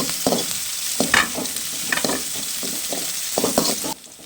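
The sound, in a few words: frying and stirring in a pan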